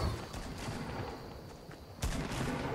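Gunfire from a weapon in Fortnite, a rapid stream of shots under a busy game soundscape, with a sharp loud burst standing out toward the end.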